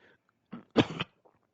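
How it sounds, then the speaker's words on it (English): A person coughs a couple of times, short harsh bursts that are close and fairly loud, with quiet gaps between them. "coughed up a lung"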